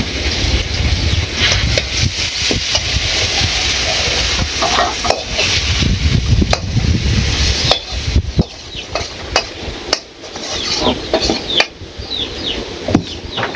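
Bitter gourd (karela) fried in a pan while being stirred hard, giving a loud, steady sizzle with repeated scraping strokes of the spatula throughout, close up and without talk.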